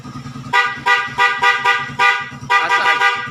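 A motorcycle horn wired through a Honeywell domino switch honks in a rapid rhythm of about eight loud, close, blaring beeps over a low engine idle, with no talking.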